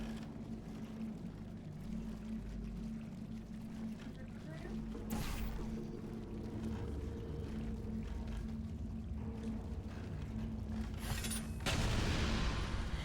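Explosions keep going off in Portal Stories: Mel, a Portal 2 mod game, with loud broadband booms near the five- and twelve-second marks over a steady low rumble and hum.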